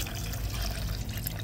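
Water pours steadily into a pot while cooking a native-chicken adobo in coconut milk, a soft continuous trickling splash at low volume, with no voices.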